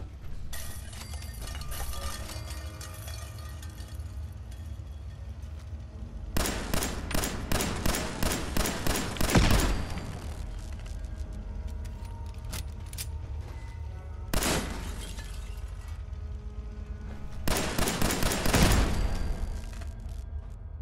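Pistol gunfire in the video game Fallout 4, inside an interior area: several rapid bursts of sharp, loud shots in clusters separated by quieter stretches of ambient game sound, with no talking.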